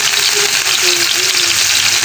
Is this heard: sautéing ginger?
yes